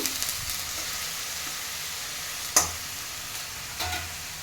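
Onion and chili paste frying in a pan for a Bengali yogurt fish curry, a steady soft sizzle with a couple of sharp scrapes from a stirring utensil against the pan.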